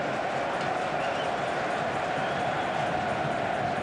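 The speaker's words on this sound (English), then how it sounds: "Again, the home crowd getting behind the side" Home supporters at a Borussia Dortmund versus Rangers football match roaring in a sustained, dense wash of crowd noise that fills the stadium without a break.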